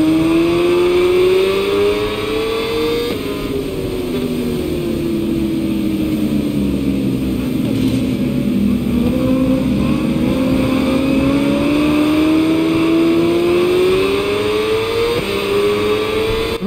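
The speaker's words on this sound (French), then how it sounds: "Je vous fais écouter le bruit du moteur, mais uniquement en vue extérieure." A motorcycle engine in the game SBK 22, heard from the exterior view, drones continuously, its pitch rising and dipping as it revs up and eases off, loud and steady throughout.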